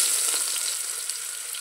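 Whole spices hit hot oil in a pressure cooker with a loud, bright, crackling sizzle that is strongest at first and eases slightly, close up, with no voices.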